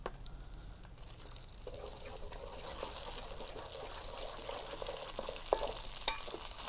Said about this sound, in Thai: ใส่ไข่ลงไปนะ